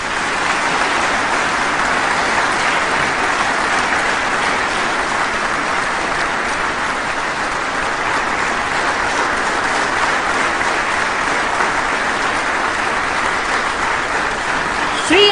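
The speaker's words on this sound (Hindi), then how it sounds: "अपार हर्ष और करतल ध्वनि से स्वागत कीजिए" Sustained, dense audience applause at an Indian award ceremony welcoming Amitabh Bachchan, a steady roar of clapping from a large crowd that holds loud and even throughout.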